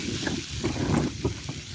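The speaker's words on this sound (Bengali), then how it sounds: "টমেটোটা হালকা একটু ভেজে নিতে হবে।" Tomatoes fry lightly in a pan with onions and garlic for a dried-fish bhuna, a close continuous sizzle and hiss broken by short scraping stirs at irregular moments, with no voices.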